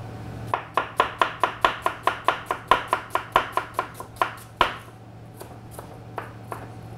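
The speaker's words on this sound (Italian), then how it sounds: "La cipolla la andiamo a tagliare a listarelle." A knife cuts an onion into strips on a board, making a rapid, even series of about sixteen close, sharp chops, then a pause and a few slower, scattered taps, with no talking.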